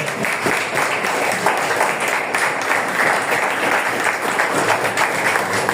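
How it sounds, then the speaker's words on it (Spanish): A church congregation claps together during a worship service, a dense, steady wash of applause filling the room for several seconds with no break. "Dale palmas a Dios, iglesia."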